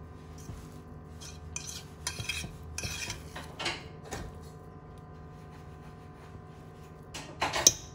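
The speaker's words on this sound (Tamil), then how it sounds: "அதனால் நம்ம இந்த ஃபோக்லேயே வந்து மிக்ஸ் பண்ணி விடலாம்." Cooked lima bean rice being fluffed and mixed with a fork in a pot, giving soft scraping and clinking taps of metal against the vessel, faint and irregular, with a few louder clinks near the end.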